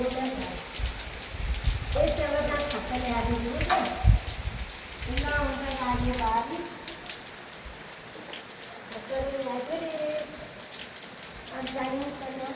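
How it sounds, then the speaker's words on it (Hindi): Rain falls steadily in a mountain village, a continuous patter close by, while people speak and sing over it for much of the time. "बारिश आयो"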